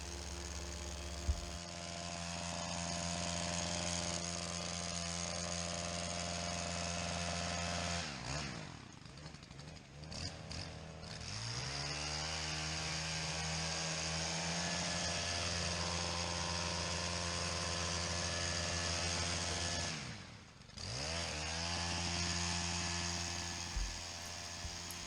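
A petrol combi machine with a hedge trimmer on an extension pole cuts a large laurel hedge on a slippery slope. The engine drones steadily and loudly for the whole stretch, with two brief dips where the revs drop and rise again.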